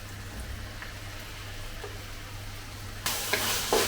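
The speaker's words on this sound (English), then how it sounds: "Turn it to high heat and stir fry it for about 10 to 15 seconds to mix everything together" Beef and vegetables stir-fried over high heat with cornstarch-thickened sauce, beginning as a low steady hiss with hum, then bursting into a much louder, brighter sizzle as the wok is stirred near the end.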